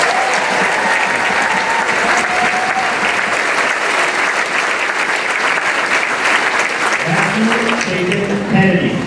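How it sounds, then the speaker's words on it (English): A crowd gives sustained, even applause for a group of graduates at a high school graduation ceremony, loud clapping that fills the hall throughout, with a voice speaking faintly near the end. "Please give this group of graduates an applause."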